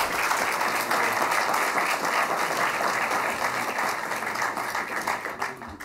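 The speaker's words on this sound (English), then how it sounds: "Let's give our panelists a big round of applause." Sustained audience applause for panelists at an Arctic energy conference, a thick, even wash of many hands clapping that holds steady and tapers only slightly toward the end.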